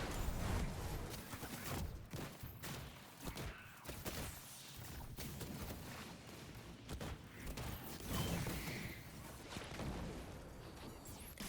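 Golden Gun super shots fire in Destiny 2 during a K1 Communion legendary lost sector, with sharp cracking blasts and crashes over a rumbling, clattering game mix. No one speaks.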